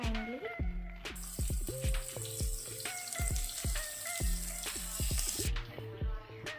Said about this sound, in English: I have to fry the onions and chopped finely.